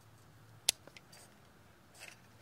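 Cutters snip through the ground wire of a fuel pump on a 1990 Mazda B-2200, one sharp close click followed by a couple of faint ticks against quiet background hum.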